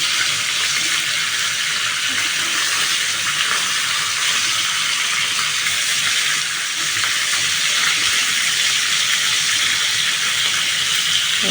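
Pieces of rohu fish fry in a pan of hot oil, giving a loud, steady, unbroken sizzle from start to finish.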